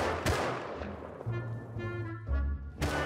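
Gunfire in the video game Rust, a few sharp shots with a sustained tone between them, fairly faint, no talk.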